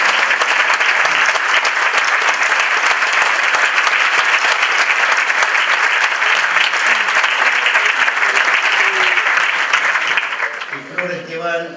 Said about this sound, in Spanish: Y un fuerte aplauso para este artista.